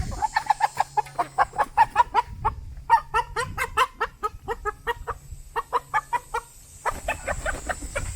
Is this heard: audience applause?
no